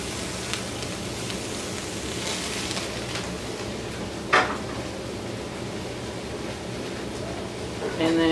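Napa cabbage and kale cooking in a skillet give a steady, rain-like sizzle that continues throughout, with a sharp clatter near the middle and a brief knock at the end.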